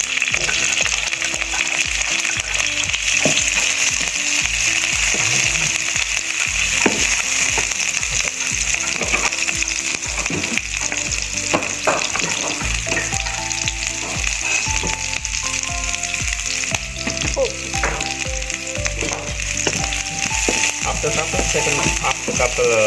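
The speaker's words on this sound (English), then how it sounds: "Afterward, I gonna put the onion, shallot, and also the slice of the chili." Onion, shallot and sliced chili frying in hot oil in a pan, a loud steady sizzle filling the whole stretch with some clinks and stirring scrapes and tonal hum underneath, no voices.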